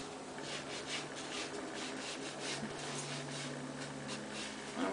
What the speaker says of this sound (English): now I'm going to distress the edges and cover up some of the imperfections